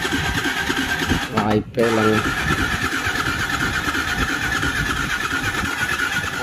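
A Yamaha R15 v2 motorcycle engine starts up with a brief cranking stutter, then settles into a steady, close running drone. A person talks over it.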